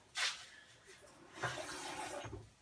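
Water pouring into a jug to fill it almost to the top for homemade water kefir, a short splashing gush near the start followed by a steadier trickle and a second surge near the end, close and fairly quiet.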